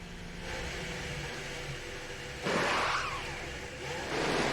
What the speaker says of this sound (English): Hear the cars going past on the radio there.